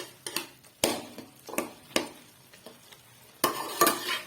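A spoon stirs chicken yakhni in a pot, sending out scattered scraping clinks and knocks in an irregular rhythm, with faint sizzling between strokes and a busier stretch of stirring near the end.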